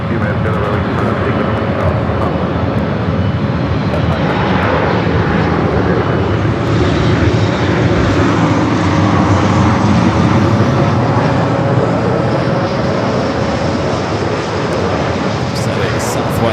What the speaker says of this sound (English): Southwest flight flying by us